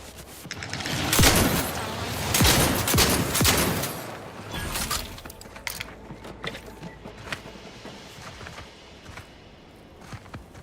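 Shotgun blasts in Outer Worlds 2 come as several loud, booming shots in quick succession, followed by scattered mechanical clicks, clanks and footstep-like thuds as the firing dies down.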